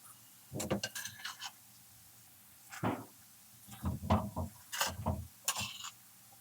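Mango fish peera made with kozhuva is stirred in a pan with coconut oil. Intermittent scraping and clattering bursts come close and fairly loud, separated by short quiet gaps.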